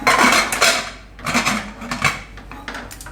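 Metal clanks and scrapes up close as a pressure cooker lid is fitted and pushed shut, a few sharp knocks over a few seconds, no voices.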